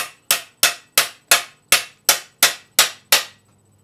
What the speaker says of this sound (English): You just hammer it in until it's flush.